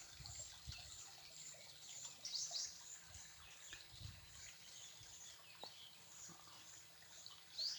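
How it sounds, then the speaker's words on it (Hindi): A mountain stream that flows all year gives a faint, steady rushing trickle, with small birds chirping now and then over the water. "ये 12 मास यानी हमेशा निरंतर बहता रहता है। आप पानी की आवाज़ भी सुन सकते हैं।"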